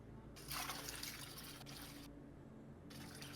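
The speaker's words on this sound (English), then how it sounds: "I'm running some water. I had to give my dog some water." Tap water runs into a dog's bowl in two bursts of steady hissing flow, soft and fairly close, with a short pause between them and no talking.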